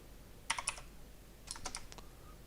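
Japanese text is typed on a computer keyboard in short quiet bursts of clicking keystrokes, two clusters of several taps separated by a pause, close but faint.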